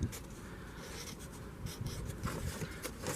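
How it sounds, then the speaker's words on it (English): A pen or marker scratches across a piece of cardboard as labels are written for cylinder-head parts. The strokes are close and quiet, with a soft, uneven rhythm that continues for a few seconds. "I just got a piece of cardboard, and I'm going to write E6"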